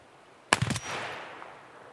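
A quick burst of three or four gunshots from a rifle in Escape From Tarkov, sharp and close, followed by a fading echo tail, with no talk.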